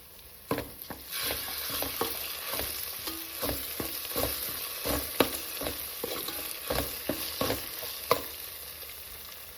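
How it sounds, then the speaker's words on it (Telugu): Ginger garlic paste fries with onion paste in a pan for a chicken curry, giving a continuous close sizzle broken by regular scraping knocks of a spoon stirring the mixture. "ఇప్పుడు ఇందులో ఒక స్పూను అల్లం వెల్లుల్లి పేస్ట్ వేసుకొని లైట్గా వేయించుకోవాలి."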